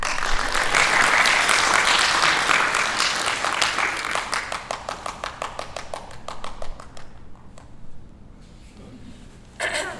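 Audience applause at a children's theatre performance: dense, sustained clapping that gradually thins into scattered individual claps before a brief final burst.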